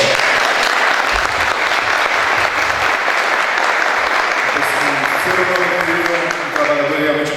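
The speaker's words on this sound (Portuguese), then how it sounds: "Eu quero pedir uma salva de palmas para o Léo." A crowd at a winery event applauds Léo, loud continuous clapping close by, with voices and cheering emerging toward the end.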